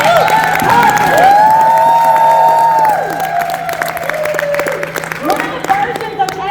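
A crowd at a business mastermind event claps and whoops in applause, with loud cheering and shouts over the clapping and voices calling out amid the noise.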